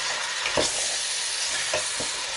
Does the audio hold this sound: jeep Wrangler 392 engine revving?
no